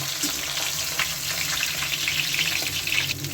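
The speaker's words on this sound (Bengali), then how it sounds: "ভাজাটা হয়ে গেছে এখন মাছগুলিকে নামিয়ে নেব" Koi fish (climbing perch) fry in oil in a pan for a spicy koi kosha curry, giving a loud, even, close-up sizzle that carries on without a break and without voices.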